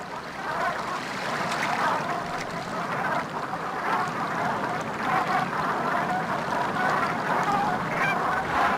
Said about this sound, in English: Black Brant geese flock here to feed on their favorite food